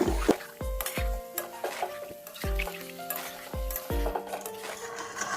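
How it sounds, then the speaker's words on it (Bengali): Chicken meat being stirred in a metal pan over a high gas flame for methi chicken: repeated ringing clanks and scrapes of the spoon against the pan, with a faint sizzle underneath. "এখন মাংসটা ভালো করে কষিয়ে নেব। গ্যাসের ভলিউমটা হাইতে রাখবো।"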